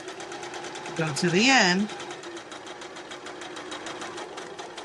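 Sewing machine back-stitching fabric while assembling a fabric bag, a steady rapid needle clatter running throughout, with a person speaking briefly over it near the start.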